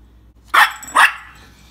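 A dog at home gives two sharp, loud barks close by, about half a second apart, in an otherwise quiet room.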